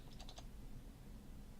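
A short, quiet burst of four or five computer keyboard clicks sounds at the start, then fades into a steady low hum with no further typing and no voices.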